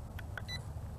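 An X2 Pro3 GPS smart drone gives a few short, faint electronic beeps in quick succession over quiet outdoor background noise.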